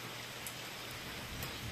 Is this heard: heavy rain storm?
yes